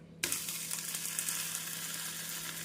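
A wheat dosa fries in oil on a hot pan, giving a steady, close sizzle that starts abruptly and continues evenly throughout with no talking.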